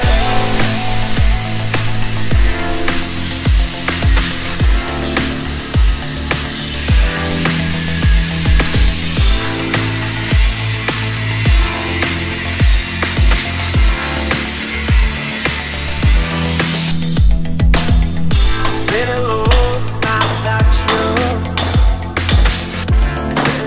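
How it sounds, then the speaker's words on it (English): An angle grinder slices welded-on brackets off a steel Nissan Patrol chassis during an Isuzu D-Max rear diff swap, a loud, continuous harsh cutting whine with pulsing load changes and a brighter, grittier stretch near the end, no talking. "So now it's pretty much just grinder time and just cut everything off."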